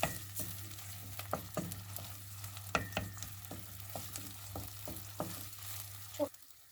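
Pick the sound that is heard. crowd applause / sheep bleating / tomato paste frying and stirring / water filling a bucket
tomato paste frying and stirring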